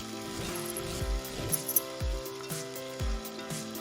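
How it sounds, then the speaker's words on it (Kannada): Chopped onion frying in oil with mustard seeds, cumin, curry leaves and dried red chillies for sambar, a steady sizzle punctuated by several low thuds and faint clinks of a utensil against the pan. "ಹಾಗೆ ಒಂದು ದಪ್ಪನಾಗಿ ಹಚ್ಚಿರೋ ಈರುಳ್ಳಿ ಹಾಕಿ ಸ್ವಲ್ಪ ಫ್ರೈ ಮಾಡಿಕೊಂಡು"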